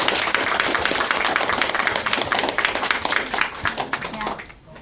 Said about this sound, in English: can we give them a good round of applause?